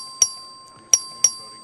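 A clerk rings a bell in a legislative chamber to call a record vote, three sharp metallic rings with a short gap before the last two, close and clear, with no talk over them.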